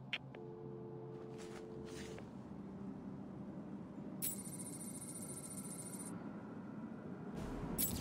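An in-game telephone rings in Batman: Arkham City, short electronic trills repeating in bursts over a low ambient rumble, moderately faint.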